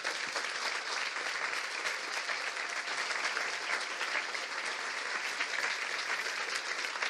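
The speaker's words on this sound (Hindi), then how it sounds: "आइए प्रभु के लिए एक अच्छी ताली बजाएंगे।" A church congregation applauds for the Lord, a loud continuous wash of many hands clapping that holds evenly throughout, with no talk over it.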